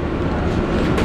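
Inside a Metrolink commuter train, a loud, steady rumbling roar of the moving cars with a dense broadband hiss, heard close and continuous throughout.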